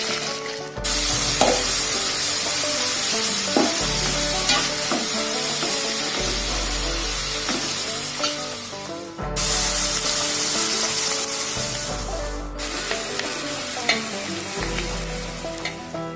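Oil heats and fries in a pan with a loud, dense, continuous sizzle, spattering crackles throughout and a low rumbling hum from the stove beneath.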